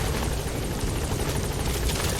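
A helicopter in Metal Gear Solid V hovers loud and close while arriving at a landing zone, its dense rotor roar and thumping constant throughout with no voices.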